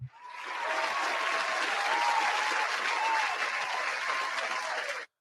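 An audience at a year-end awards show breaks into applause with some cheering, a full, even wash of clapping that holds steady for about five seconds and then cuts off abruptly.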